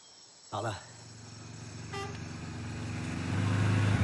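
A vehicle engine idles in a steady low drone, with a short horn toot early on and a brief second honk, the rumble growing slightly louder toward the end.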